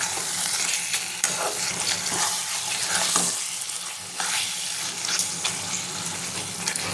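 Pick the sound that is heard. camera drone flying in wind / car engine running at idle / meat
meat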